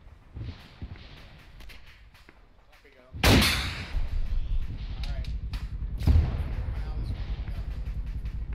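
AT-4 rocket launched at a BMP in ArmA 3, a sudden loud blast three seconds in with a long rumbling tail, followed by a second boom; faint voices and scattered distant shots around it.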